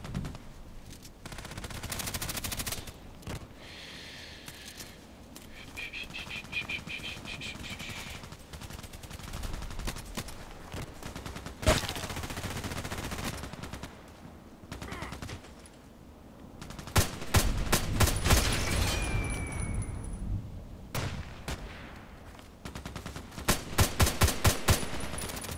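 HK417 rifle fire in a shooter game, sharp gunshots heard alone in scattered single shots and quick bursts, some loud and close, others softer, with a rapid cluster of shots near the end.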